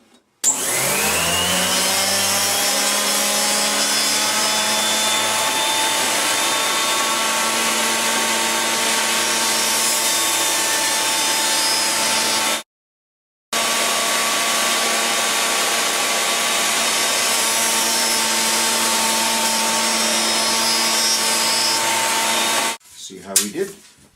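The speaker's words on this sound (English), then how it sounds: "I'm going to run the center part over the jointer before I do the ends" A wood jointer's cutterhead spins with a loud, steady whine and rich hum while a board is planed, running continuously for about twelve seconds, cutting out briefly, then resuming before winding down near the end.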